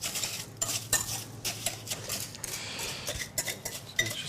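Salt being mixed in a bowl for braised short rib, with close scraping and clinking of a utensil in quick irregular strokes, moderately loud and without talk.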